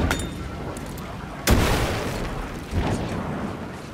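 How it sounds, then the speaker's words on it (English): Flashbang grenade going off in the horror game Alan Wake 2, a single sharp bang followed by a hissing, ringing wash of noise that slowly fades with a second swell. "Throw the flashbang, Alan!"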